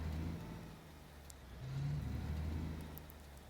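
A truck engine idles and rumbles steadily while parking in the Alaskan Road Truckers video game, with a low, continuous drone that swells slightly midway before settling.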